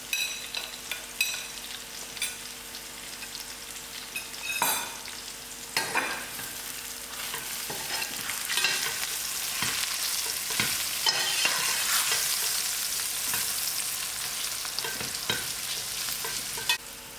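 Masala for brinjal chutney sizzles in a pan while being stirred, with scraping and clinking of the spoon over a steady frying hiss that grows louder midway, and no voices.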